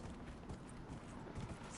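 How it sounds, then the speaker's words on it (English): A horse galloping in the video game Dragon Age Inquisition, a steady run of hoofbeats blurred into dense, continuous thudding and rumble that stays loud and even from start to finish, with no talk over it. "And then call up my horse."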